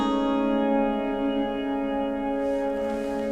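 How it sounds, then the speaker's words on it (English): Guitar run through a granular reverb effect pedal with the reverb mix turned down, giving a sustained, shimmering wash of layered harmonic tones that stays steady and fairly loud, with a brighter grainy texture creeping in near the end. "I'll bring the reverb mix down so that you're hearing more of the granular reverb"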